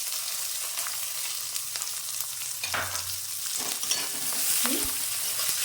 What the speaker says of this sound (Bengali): পেঁয়াজ কুচনো, লঙ্কা চেরা দিয়ে দিলাম,